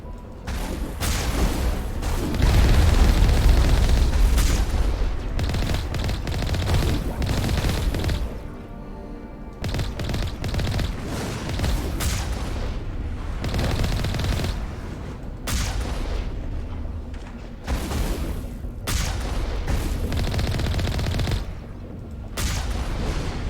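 A main cannon fires during a battle against a dropship and a Colossus in Mass Effect, producing loud, repeated booming blasts in irregular clusters, layered with crackling gunfire and brief lulls.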